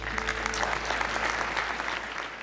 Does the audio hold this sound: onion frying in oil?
no